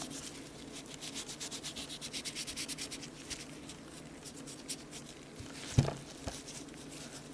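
Close, steady rubbing as alcohol is wiped over Tokyo Marui M&P9 airsoft pistol parts to clear old grease and oil, a rhythmic scrubbing that eases off before a couple of louder knocks near the end, with no voices.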